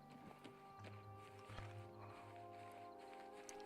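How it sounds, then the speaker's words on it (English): In the video game Oblivion Remastered, a horse's hooves clip-clop in a quick, irregular rhythm, faint and blended with a low game soundscape of sustained tones. "Heard the cloppity clop of the horse."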